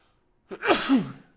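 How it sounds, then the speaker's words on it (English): A single close sneeze: a quick sharp intake followed by a loud, voiced burst that trails off. "I've been sneezing so much."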